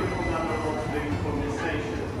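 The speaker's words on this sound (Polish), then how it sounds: "No i przyjechał nasz pociąg." A train arrives at a London station, with a steady broad rumble and rail noise filling the platform while people speak nearby.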